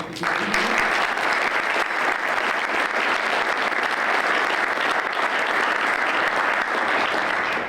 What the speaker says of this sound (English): And I just want to give him another round of applause.